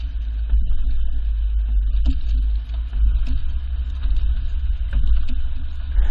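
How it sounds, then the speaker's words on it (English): A vehicle carrying a Thule Apex XT bike rack rolls over alternating speed bumps. A steady low road rumble is broken by repeated soft thumps and rattles, with no talking. "And now our alternating speed bumps, which is going to simulate driving over uneven pavement like potholes"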